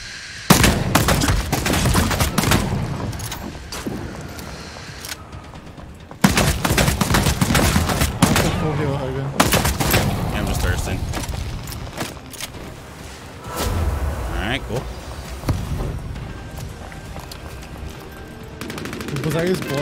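Rapid automatic gunfire in Apex Legends, loud bursts and single cracks in dense succession across the whole stretch, with short lulls, layered over in-game effects and a player's excited talk.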